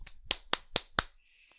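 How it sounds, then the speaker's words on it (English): Sharp hand claps for syncing, four crisp evenly spaced smacks close to the mic, then a faint tail of quiet room tone. "I clapped."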